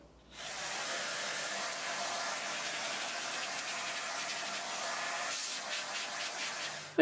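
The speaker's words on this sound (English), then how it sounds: "let me vacuum all this first and we'll have a look at this a bit closer" A vacuum sucks up acrylic filings left from cutting a mini quad frame with a 3D printer, a steady broadband whoosh running continuously from start to finish with no talk.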